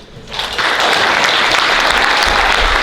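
An audience at a city ward candidates forum breaks into loud, sustained applause that swells quickly after a quiet moment and continues steadily to the end.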